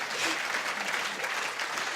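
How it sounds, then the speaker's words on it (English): Audience applause fills the hall at a talk with composer, violinist and pianist, a dense steady clapping throughout with cheering mixed in. "I can see Miriam in the front row laughing, cheering on that one"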